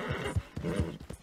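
Horse hooves clip-clop in a quick, close rhythm with a whinny in Red Dead Redemption 2, the beats loud and fairly clear with no one talking.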